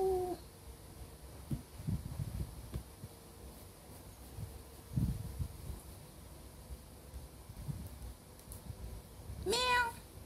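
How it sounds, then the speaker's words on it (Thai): A small, cute cat gives a brief meow at the start and another near the end, both faint over a quiet indoor hum with soft thumps in between. "แมว"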